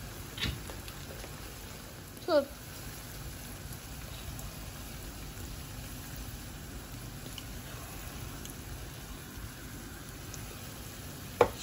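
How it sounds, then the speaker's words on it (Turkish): Stuffed pepper filling made with olive oil, mint and black pepper sizzles softly in a pan while being stirred, a faint steady crackle broken by a few brief scraping clinks of the spoon. "şimdi karıştırıyoruz"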